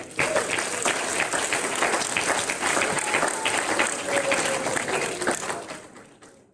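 An audience applauds steadily for the full stretch at a Spanish-language talk on adolescent behaviour and parental authority, a dense, even wash of many hands clapping that fades near the end.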